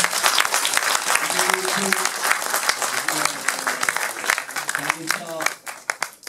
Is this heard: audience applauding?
yes